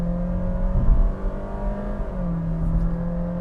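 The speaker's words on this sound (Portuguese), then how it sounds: "Ele só apresenta esse comportamento que a Honda chama de step shift quando você realmente pisa para valer" A Honda City hatch from 2022 with a CVT accelerates hard, the engine drone rising and then dropping in pitch at a simulated step-shift gear change before climbing again, heard steadily from inside the cabin.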